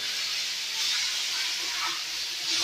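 Mashed baingan bharta sizzling in a hot pan with tomato, a continuous loud frying hiss that swells and fades slightly throughout, close up and alone.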